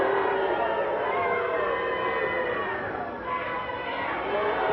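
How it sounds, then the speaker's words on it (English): A wrestling arena crowd in Portland jeers Al Madril, a dense, continuous wash of voices and chatter with a brief dip in the middle, with a commentator talking over it. "Crowd really getting on Al Madril right now."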